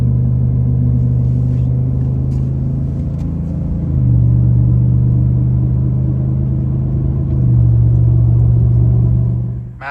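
A pickup truck towing an empty trailer accelerates onto the interstate with a loud, steady engine drone and road rumble that climbs and settles through gear changes, close and continuous with no talking.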